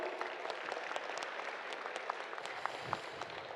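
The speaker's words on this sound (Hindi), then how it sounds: "Clap for him." An audience at a prize distribution and closing ceremony claps steadily, a dense, even patter of many hands in a hall that holds its level throughout.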